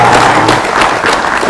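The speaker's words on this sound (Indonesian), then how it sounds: "Kita beri tepuk tangan untuk Pak Dirjen." Audience applause at a live Indonesian radio broadcast event, a dense, loud burst of clapping filling the whole moment without a break.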